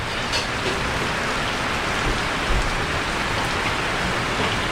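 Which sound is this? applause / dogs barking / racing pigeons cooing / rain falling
rain falling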